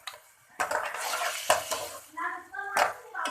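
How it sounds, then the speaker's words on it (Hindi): Chicken pieces fry in oil in a pan for a homemade pizza topping, with spatula scrapes and stirring clatter over a soft sizzle, in irregular close bursts. "चिकन को अब हम फ्राई करेंगे तेल में।"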